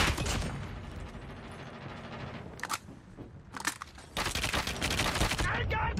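Automatic fire from an AK47 in a ranked online shooter game, bursts of rapid shots crackling between quieter moments, with gear clatter mixed in.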